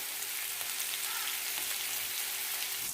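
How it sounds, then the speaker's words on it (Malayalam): Sardines fry in a pan, a steady, faint hiss of sizzling oil with a few small pops and crackles throughout. "ഈ മീൻ ഇത്തരത്തിലൊന്ന് ഫ്രൈ ആയി വന്നിട്ടുണ്ട്"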